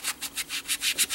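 Polymer clay is rubbed and sanded with baking soda in a rapid, steady series of about eight short scratchy strokes, close and fairly quiet, with no voices.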